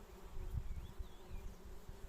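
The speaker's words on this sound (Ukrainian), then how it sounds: "Якщо подивитися, то вона дуже така відвідується бджолами." Honeybees swarm over a flowering phacelia field, producing a steady, field-wide buzzing drone that holds unbroken throughout at moderate loudness.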